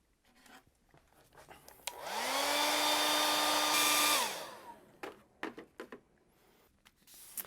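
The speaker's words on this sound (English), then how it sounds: "I'm going to hit it with the blow dryer." Blow dryer drying a coat of primer on EVA foam, held about a foot away: a steady whirring roar lasting a couple of seconds, switched on and off, close, followed by faint handling taps.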